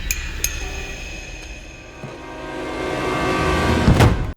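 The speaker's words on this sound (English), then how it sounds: "Mother just taps the glass." In a scene from the film Get Out, a utensil taps a glass with a few bright clinks scattered through a quiet room tone, ending in a louder final ring.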